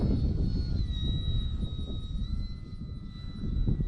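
An FT Freedom Fox V2 RC model airplane, modded, passes by low over a runway in a crosswind, its electric motor whining steadily at a high pitch above a constant rush of wind.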